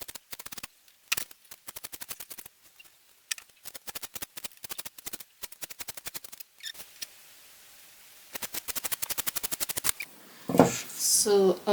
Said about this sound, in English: so I'm just going to cut that down all the way there